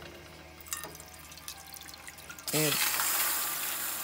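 Water poured from a measuring cup into a pot on a stovetop set to medium heat, a sudden gushing splash that starts partway through and continues steadily, with a brief spoken word before it.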